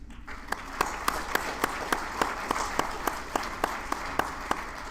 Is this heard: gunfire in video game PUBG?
no